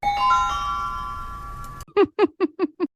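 Bell-like sound effect: a sustained bright chime ringing for nearly two seconds, then a quick run of five or six short, evenly spaced dings.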